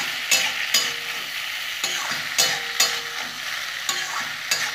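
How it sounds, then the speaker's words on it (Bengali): Pasta stirred and fried in a pan with black pepper powder, a steady sizzle broken by repeated sharp scraping strokes of the spoon, close and fairly loud with no voices. "ভালো করে ভেজে নেবো।"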